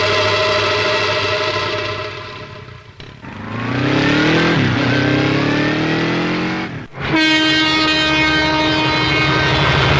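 A train at Royapuram railway station, loud and close, with a sustained horn blaring and a rising, sweeping engine roar, then the horn sounding again steadily to the end.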